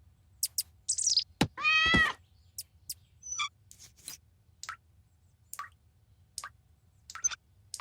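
A cartoon water tap dripping in a quiet kitchen, a steady series of bright, close plinking drops spaced about half a second apart, broken early by a short squeaky vocal sound.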